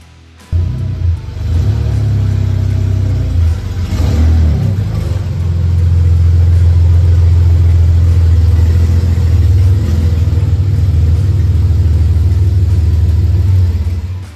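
A car with a 22 RPD kit on hand rumbles loudly at close range as it pulls into a garage, its deep, steady engine drone rising briefly and then holding constant before cutting off at the end.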